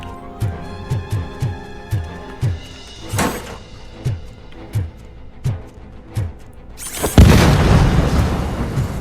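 Explosion in the video game Robocop Rogue City: a run of booming thumps and gunfire-like bangs, then a loud, sustained blast roaring for the final two seconds, close and dominant with no speech.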